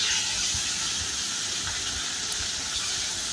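Rohu fish pieces frying in hot oil in a wok, a steady loud sizzling hiss that fills the whole stretch without pause.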